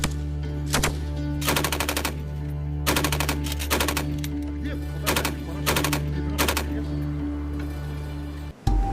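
Automatic gunfire at a Russian military training facility crackles in repeated sharp bursts over a steady low rumble, the volleys spaced a second or so apart and ending with an abrupt cut.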